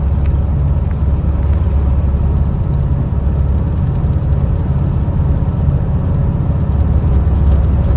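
An old Chevelle engine running rough on stale gas while held at a steady idle gives a loud, continuous low rumble with an uneven, labouring note, close by and with no voices.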